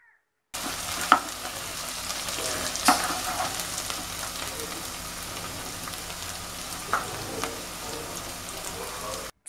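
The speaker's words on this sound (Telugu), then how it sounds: "ఈ ఉల్లిపాయలు బాగా మగ్గేంత వరకు మూత పెట్టుకుని లో ఫ్లేమ్లో బాగా మగ్గించాలి." Finely chopped onions fry in a covered pan over a low flame for an Andhra gongura prawn curry, giving a steady, soft sizzle with a few brief clicks and pops throughout.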